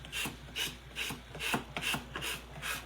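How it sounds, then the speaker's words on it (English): Hand sanding of a wet painted surface, a soft rhythmic rasping of back-and-forth strokes repeating about every third of a second, faint and close. "sometimes they say it's not good to sand when it's wet, but let's give it a try"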